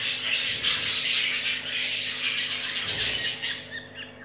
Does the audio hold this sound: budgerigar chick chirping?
yes